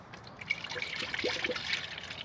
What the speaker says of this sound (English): let's go ahead and fill it up with coolant and make sure we don't have any silly leaks